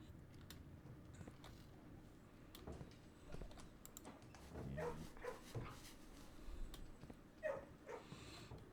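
Dogs in the kennel room of the Blue Prince video game give faint, scattered barks and whimpers over a low, steady background hum.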